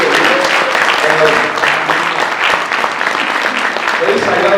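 Audience applause welcoming a speaker at a pastors' association meeting, dense steady clapping throughout, close and loud, with some voices in the crowd.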